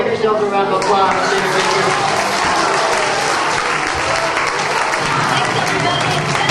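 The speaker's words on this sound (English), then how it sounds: "Give yourselves a round of applause." Audience at a magic show applauds steadily and loudly throughout, a dense continuous wash of clapping from a large crowd with a voice speaking over it.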